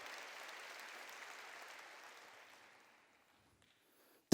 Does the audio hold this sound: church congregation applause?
yes